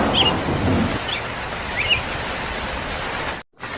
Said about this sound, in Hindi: बारिश बहुत तेज़ हो रही होती है।